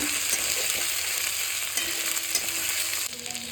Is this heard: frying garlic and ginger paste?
yes